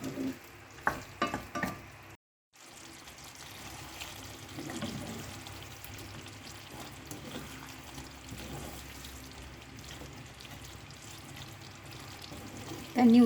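Chicken ghee roast frying in a pan and stirred now and then, a quiet, continuous sizzle with soft scraping, dropping out briefly before resuming.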